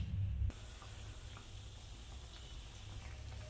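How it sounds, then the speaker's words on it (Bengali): Bread pakora coated in gram flour batter frying in hot oil, giving a steady, close sizzling hiss that runs throughout with no talking. "তেলের মধ্যে দিয়ে দিয়েছি ব্রেডগুলো বেসন দিয়ে এবার ভেজে নিচ্ছি"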